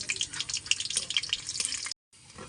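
Whole garlic cloves with chillies and black cumin sizzling in hot oil, a steady crackling hiss with sharp pops, close and fairly loud, briefly cut off near the end.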